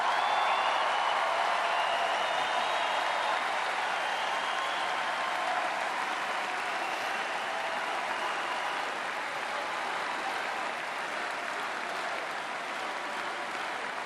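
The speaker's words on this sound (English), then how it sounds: "it is so nice to hear you cheering for what I just said" A large crowd at the 2016 Republican National Convention in Cleveland applauds and cheers in a dense, steady roar of clapping that fades only slightly over fourteen seconds, with no speech over it.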